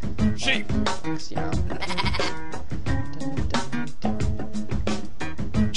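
Repeated sheep bleats from the Pumpkin Land video game sound loud and close, woven into a rhythmic music remix with other animal noises.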